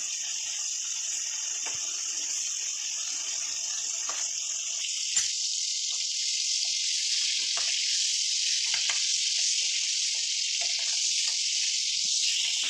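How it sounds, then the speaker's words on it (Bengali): Fish fries in hot oil in a kitchen pan, giving a continuous bright, even hiss that holds steady throughout with a few small pops, close and alone. "এই মাছটা আমার এইভাবে ভাজা হয়ে গেছে।"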